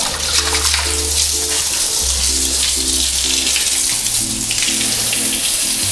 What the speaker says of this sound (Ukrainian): Зараз, коротше, буду набирати повний відстойник води.